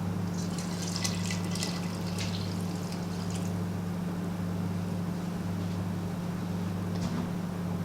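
Water trickles and splashes softly into a bowl of sourdough bread dough with figs, over a steady low mechanical hum, with light dripping near the end.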